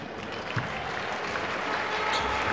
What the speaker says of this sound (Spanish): Vaise o banco Whitford, aplaudido por Moncho Fernández